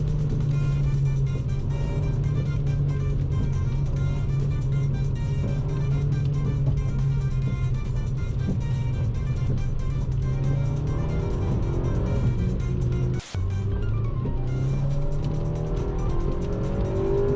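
An 8th-generation Honda Civic Si engine drones steadily from inside the cabin, holding a sustained high rev before a brief drop, then resuming its strained, buzzing pitch.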